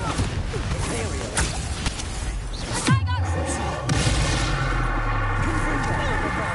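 Spell blasts in the video game Hogwarts Legacy: repeated loud booming impacts and crackling explosions overlapping in quick succession, with a voice speaking over the clash.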